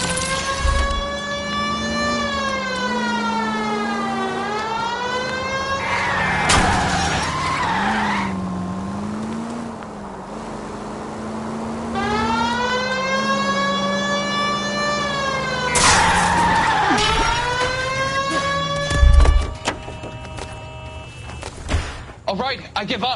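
Tires skid and screech during a car chase in the video game L.A. Noire, with long sweeping squeals that rise and fall over an engine drone, joined by sirens and a bump near the end while someone talks.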